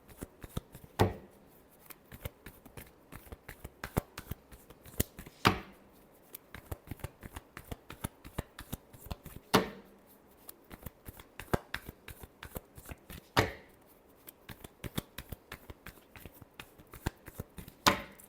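Tarot cards shuffled by hand, a steady run of crisp riffling flicks with louder bursts every few seconds, close and clear with no talking.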